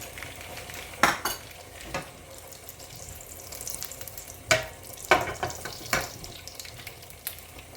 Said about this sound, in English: we're also gonna golden fry the onions in the ghee